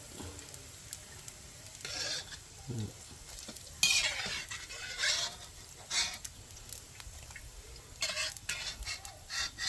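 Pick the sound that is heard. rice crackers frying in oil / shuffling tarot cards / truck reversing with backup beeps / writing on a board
rice crackers frying in oil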